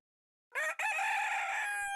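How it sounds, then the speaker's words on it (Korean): A rooster crows at dawn, a single loud, close cock-a-doodle-doo that begins after a moment of silence and holds its long drawn-out final note. "새벽닭이 우는 소리를 듣고 나서야"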